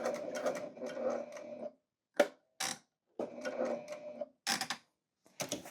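A sewing machine runs in short stitching bursts while sewing diagonal lines across a scrap-pieced sprocket pillow top, following earlier stitch lines, with brief pauses and a few quick clicks between runs; close and clear, no talk.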